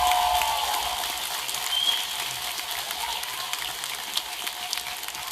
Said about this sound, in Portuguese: Vamos louvar o Senhor, vamos aplaudir a Jesus,